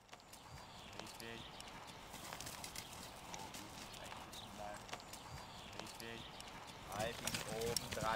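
A horse in a riding lesson at a stable yard moves with a steady clip-clop of hooves under near-continuous talking, the beats moderately loud and close.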